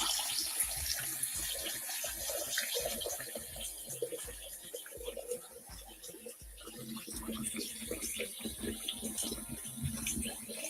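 Water runs from a faucet into a clean kitchen sink as it fills, a steady broadband rush with some clatter and voices talking in the background.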